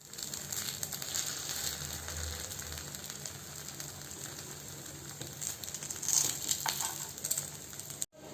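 Kara paniyaram frying in oil in a paniyaram pan gives a faint, continuous sizzling crackle, fairly quiet and steady, with a brief click just before it cuts off.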